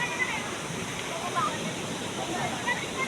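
Waterfall at Bibit Falls, a steady broadband rush of falling water heard close and continuous, with faint sloshing and gurgling mixed in and no voices.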